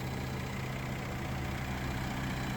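A 2015 Mercedes-Benz GLK 350 4Matic's naturally aspirated 3.5-liter V6 idles smoothly and steadily, an even low hum heard close with no talking.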